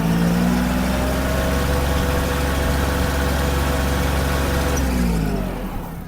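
Kubota GL-201 tractor in fourth gear with four-wheel drive engaged, its engine droning steadily loud at full throttle with a sustained low rumble before easing off near the end.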